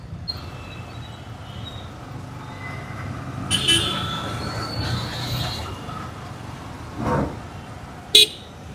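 Road traffic with honking car horns while a driver hunts for coolant, temperature and engine warning lights both on; steady engine and road rumble runs under talk, with a few louder passing swells and a sharp horn blast near the end.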